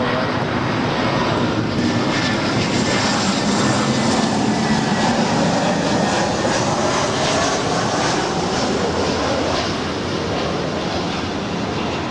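An American Airlines airliner lands on runway 24 right at Los Angeles International Airport, a loud, steady broadband jet roar that holds without a break throughout.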